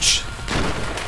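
A phosphorus grenade in Battlefield 4 goes off with a loud, close boom followed by a brief rumbling tail, a short heavy blast.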